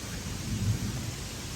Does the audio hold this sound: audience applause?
no